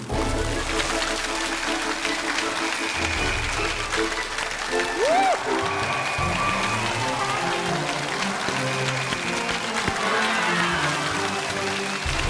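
TV lecture-show audience welcoming biologist and Tsinghua University professor Yan Ning: sustained, dense applause from a large studio crowd, with music and other sounds over it.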